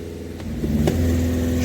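A Volkswagen Caddy with a worn, slipping clutch revs up, its engine note climbing and holding loud and close for a moment.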